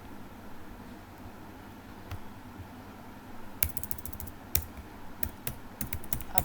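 Typing queries on a computer keyboard: scattered, quiet key clicks over a steady background hiss, growing busier and more clustered in the second half.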